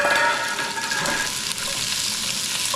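Chopped onion frying in hot oil in a pot over medium heat, a steady close sizzle with faint scraping from stirring, no talking.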